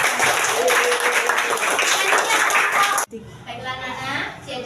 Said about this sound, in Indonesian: Tepuk tangan yang banyak.